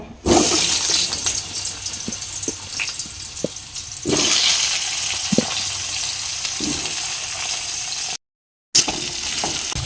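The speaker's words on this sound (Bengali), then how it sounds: "সবজিগুলো ভেজে নেব" Chunks of pumpkin, carrot, tomato and potato fry in a pan for vegetable khichuri, giving a loud, continuous hissing sizzle with a few soft pops and one brief break in the sound.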